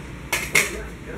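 Dishes and cutlery clatter twice, two short close knocks against a quiet kitchen background while washing up at home.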